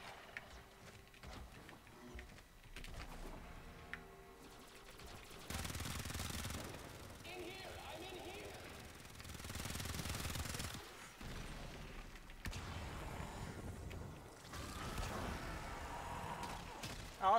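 Automatic turret gunfire in the video game Warframe, heard as dense, sustained bursts of rattling shots that swell and ease across the clip, mixed with mechanical game effects.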